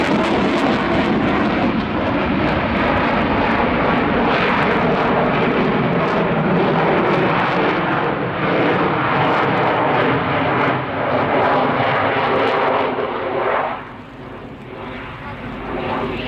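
Swiss Air Force F/A-18 Hornet fighter jet flying a display at the RIAT 2018 airshow, a loud sustained roar of jet engines rising and surging across the sky, dropping slightly near the end.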